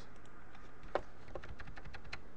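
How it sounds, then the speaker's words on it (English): Someone types a command on a computer keyboard in a quiet room, tapping a quick, uneven run of keys close by with one slightly harder stroke early on. "type the command compiz"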